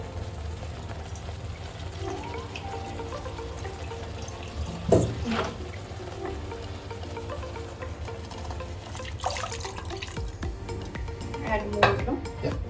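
Water being poured into a pot of Boro-style curry, a continuous running splash with metallic clinks of utensils against the pot and a few louder knocks, with faint voices in the background.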